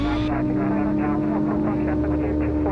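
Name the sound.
light aircraft engine at full power for takeoff stall practice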